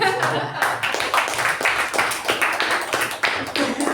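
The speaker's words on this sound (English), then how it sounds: "Round of applause." Meeting attendees applauding, a dense round of clapping filling the room for several seconds, with voices audible underneath the hands.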